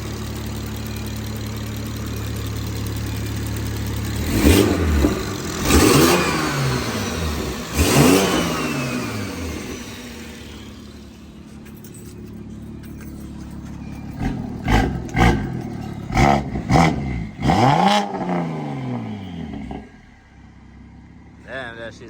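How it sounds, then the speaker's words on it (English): A BMW 440i with a top-mount 6466 turbo revs hard several times, each blip rising and falling with turbo spool whistle, loud and close, and voices talking over the engine. "So you're gonna rev it a little bit to hear the turbo spool real quick."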